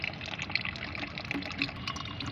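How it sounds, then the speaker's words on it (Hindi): Homemade liquid plant fertilizer mixed into a litre of water is strained, giving a continuous soft trickle and splash of pouring liquid, close and steady, with no voices. "तो अच्छी तरह से इसे पहले आप छान लें।"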